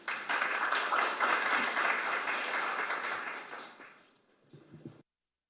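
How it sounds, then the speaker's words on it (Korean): An audience at a political committee's special lecture welcomes a speaker with a burst of dense applause that gradually dies away, and a few faint sounds follow before silence. "큰 박수로 모시겠습니다"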